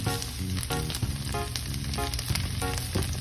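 Corn frying in a pan for Southern fried corn, with a steady, crackling sizzle broken by bursts of popping and the scrape of stirring close by.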